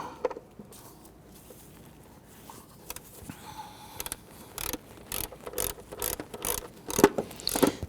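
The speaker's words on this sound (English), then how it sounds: "We're going to use a shallow 10mm in our ratchet" A ratchet with a shallow 10mm socket works the timing cover bolts on a 1992-1996 Toyota Camry 2.2L four-cylinder. After a quiet start come rapid clicking bursts, close and getting louder toward the end.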